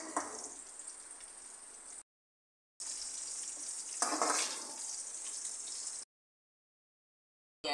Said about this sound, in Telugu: కాకరకాయలు ఆయిల్లో డీప్ ఫ్రై చేయాలండి